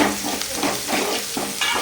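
Spices sizzle loudly and steadily in hot oil, with a few scraping stirs breaking the crackle; no one speaks.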